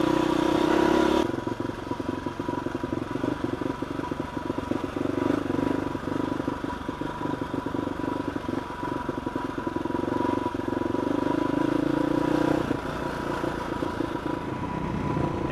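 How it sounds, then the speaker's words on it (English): Husqvarna supermoto motorcycle engine droning steadily as its rear tire spins up on clay, a close, continuous churning roar with scattered gritty clatter throughout. "My rear tire is really spinning up on that clay."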